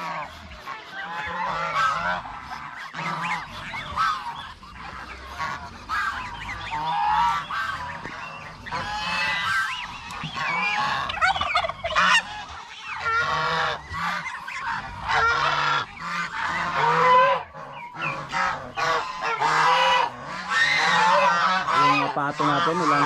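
A flock of farm geese honks loudly and continuously, overlapping calls close by with some faint talk underneath.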